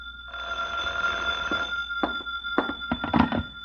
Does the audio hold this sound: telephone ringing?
yes